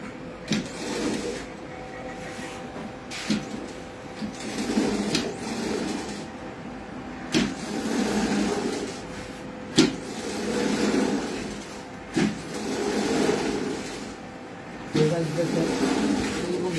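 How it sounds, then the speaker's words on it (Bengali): A Chinese quilting machine sews dense stitches into a mattress with a steady mechanical whir and periodic clunks, close by, while people talk over it. "এটা চায়না মেশিন দ্বারা আমাদের মেশিন মনে করেন সিলাই হবে, অনেক ঘন একটা সিলাই হবে"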